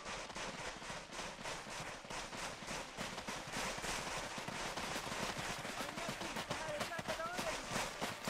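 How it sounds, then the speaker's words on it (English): Video game battle: rapid bursts of gunfire crackle continuously with dull explosion booms mixed in as a compound is raided, a dense, busy battle din at moderate volume. "Explosions outside the compound."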